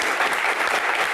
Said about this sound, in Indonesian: Kita berikan tepuk tangan yang paling meriah untuk Sutioso.